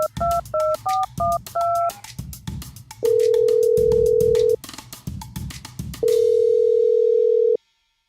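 A telephone call being placed: a quick series of keypad dialing beeps, then two long steady ringback tones separated by a pause, clear and close.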